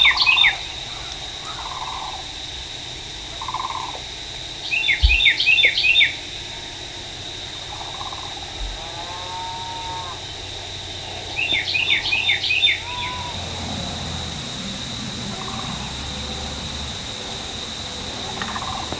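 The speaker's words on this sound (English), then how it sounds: "The tom was gobbling and strutting on the road" A wild turkey tom gobbles twice in bursts at mid-distance on a road at dawn in Florida, each call a rapid rattling series standing out over steady insect drone and soft birdsong.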